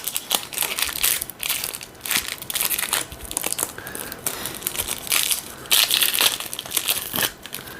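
Foil wrapper of a trading card pack crinkling and crumpling as it is torn open, a close, continuous rustle with sharp crackling bursts throughout, no talking.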